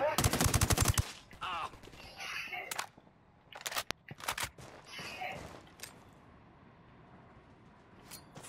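Gunfire in Ghost Recon Wildlands: a loud burst of rapid automatic fire opens, followed by scattered sharp shots and shorter bursts, with quieter stretches in between.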